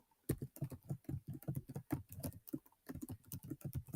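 Steady typing on a computer keyboard while writing a chapter in Google Docs, with quick irregular key clicks in bursts and close to the mic.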